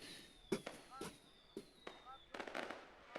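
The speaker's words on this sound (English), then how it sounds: "You can hear the celebratory fireworks there in the background." Scattered sharp pops and crackles of celebratory fireworks go off in the distance at an MMA event while someone talks over them.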